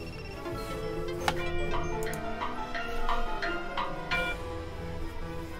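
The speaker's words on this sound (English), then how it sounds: "All my alarm clocks are going off." Several alarm clocks ring at once in Pokémon Let's Go Eevee, a steady busy ticking and chiming texture with repeated sharp clicks running throughout, moderately loud with no talking.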